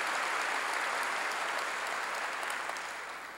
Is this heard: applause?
yes